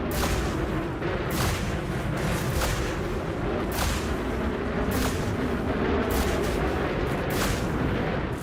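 Frag cannon fire in the space combat game Elite Dangerous on a Kestrel Mk2 ship: a dense, loud stream of booming shotgun-like blasts, repeating steadily throughout with no pause, close and alone without speech.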